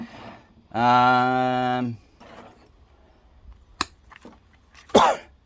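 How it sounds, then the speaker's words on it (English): A single sharp cough bursts out near the end, following a long sustained hum and a few small clicks and knocks in a quiet room. "Sorry about the cough."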